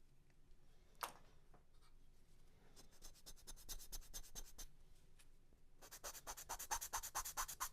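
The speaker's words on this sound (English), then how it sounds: "Basically what I'm doing is just sanding it until it fits in on this bevel here perfectly" Sanding a Carl Goldberg Sukhoi SU26MX model airplane stabilizer to fit a bevel, quiet scratchy rubbing strokes that come in short bursts and grow faster and louder toward the end, close up.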